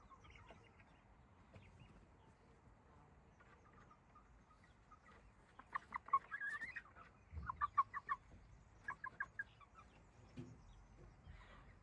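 Purebred roosters, including a Birkivska Barvysta, cluck in short bursts against a quiet farmyard background, with the clucking loudest in a cluster of rapid calls toward the middle.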